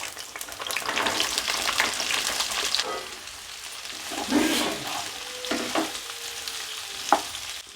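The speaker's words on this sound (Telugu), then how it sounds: "మూత పెట్టేసుకుని 5 నిమిషాలు వేయించుకోవాలి." Ivy gourds and crushed garlic fry and sizzle close by in a pan, with a crackling spread under stirring scrapes. The sizzle dips midway, and a few clanks and knocks follow.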